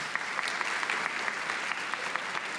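Audience applause at an evening awards ceremony, a steady dense patter of many hands clapping throughout, fairly even in loudness with no voices on top.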